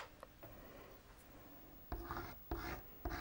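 Orange pastel rubbed onto a watercolour painting of an animal, giving faint soft scratchy strokes, then three louder rasping rubs close up in the last second and a half, no talking.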